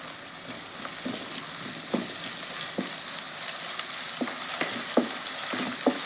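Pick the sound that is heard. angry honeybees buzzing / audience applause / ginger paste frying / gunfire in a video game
ginger paste frying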